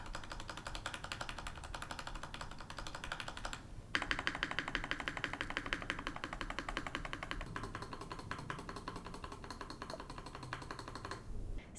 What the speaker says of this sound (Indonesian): suara yang dihasilkan dari keyboard ini udah cukup deep dan muted